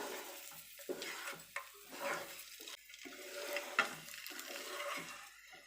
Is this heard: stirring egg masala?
yes